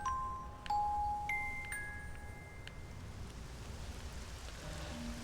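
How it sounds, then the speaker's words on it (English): Rain in the video game Flower falls as a soft, steady hiss, faint and continuous, with a few chiming musical tones near the start. "But now it's raining."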